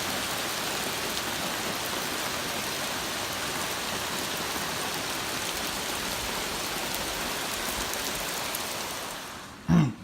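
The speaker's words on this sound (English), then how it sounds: "It's raining that hard." Heavy torrential rain pours continuously with strong wind, a dense, loud, unbroken hiss close to the microphone, ending with a brief thump of handling.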